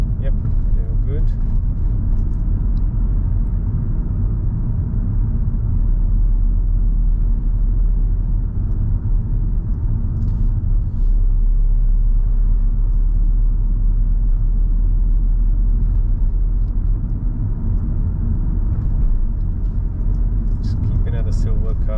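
Steady low engine rumble from a car cruising through city streets on a driving-test route as the driver eases off the accelerator, a continuous broad drone with road noise and occasional faint voices over it.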